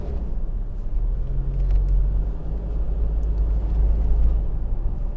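A 1997 third-generation Toyota 4Runner with about 270,000 miles is driven over a rough, broken road, giving a steady, loud low rumble of engine and road noise inside the cabin with no voices.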